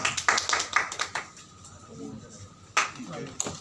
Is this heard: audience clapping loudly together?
yes